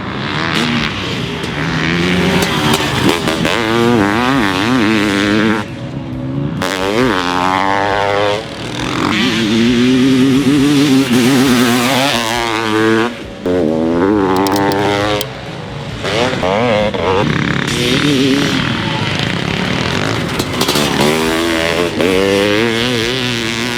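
A 1994 Honda CR500 two-stroke motocross bike built by Twisted Development revs hard and loud up close, its engine note rising and falling in repeated sweeps with brief drops between blips.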